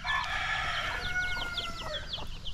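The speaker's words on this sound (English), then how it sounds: "Look at this beautiful chicken." Chickens cluck and a rooster crows in a busy outdoor farmyard in the Philippines, with repeated short clucks and calls layered over steady background bird chatter and ambient noise.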